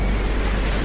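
Sea waves along the coast at Dingalan, Aurora, a steady close broadband wash of surf mixed with wind buffeting the microphone, continuous through the brief moment with no voices.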